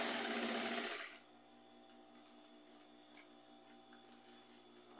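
A sewing machine runs briefly while stitching a hem on a round jersey-scrap rug, a dense close whir lasting about a second, then stopping and leaving a quiet room with faint ticks.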